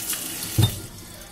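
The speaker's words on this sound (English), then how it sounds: "I'm just gonna run it under some cold water real quick" Cold tap water runs over a hot homemade reusable water bottle, a steady close splashing stream with a brief louder gush partway through.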